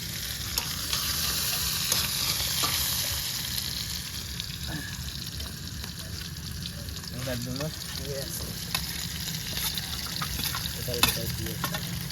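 Steady sizzling of chicken frying in a pan for chilli chicken, with intermittent scraping and stirring strokes throughout and faint background voices, in a home kitchen.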